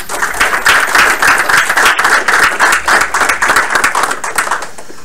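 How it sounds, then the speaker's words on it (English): An audience claps steadily in dense, close applause that carries on for several seconds and then tapers slightly. "Everybody give yourselves another round of applause for the first milestone."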